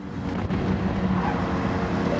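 A race car engine from Gran Turismo 7 drones steadily as the car chases a Toyota Supra, a loud, sustained low-pitched hum with little variation over a couple of seconds.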